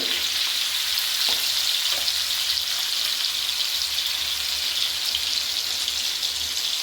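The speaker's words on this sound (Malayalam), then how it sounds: "അകത്ത് നല്ല കൊഴുവ വറുക്കണം" Kozhuva fish frying in a pan on a rainy day, a steady close sizzle and crackle running continuously with a few light stirring clicks.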